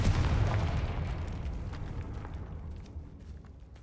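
A Confringo fire spell explodes in the video game Hogwarts Legacy with a loud, deep boom that rolls out and slowly fades over several seconds, with faint crackles scattered through the tail.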